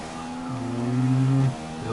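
Engine of a race car in the F1 2015 video game on PS4, a steady tonal drone that swells and holds for about a second before dropping back, heard alone with no talk.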